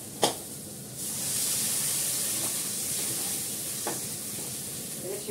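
Water poured into a hot cooking pan, a sharp clink, then a sudden rising hiss that settles into a steady loud sizzle, with a couple of faint stirring scrapes, close by.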